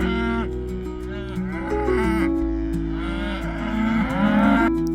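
Several cattle moo loudly at close range in California wilderness, with long overlapping lowing calls that rise and fall over a steady drone, without talking.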